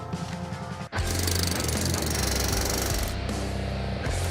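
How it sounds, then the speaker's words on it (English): A hydraulic hammer fixing railroad rails in place on an icy railroad track, a loud sustained mechanical clatter with rapid rhythmic pounding that cuts out briefly, then runs continuously near and steady. "He's using the hydraulic hammer."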